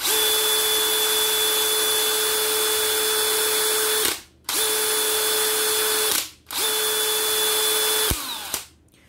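A Dewalt DCD996 cordless hammer drill runs at steady high speed in three long bursts, each several seconds of continuous whine with short gaps between, close and loud with no talking.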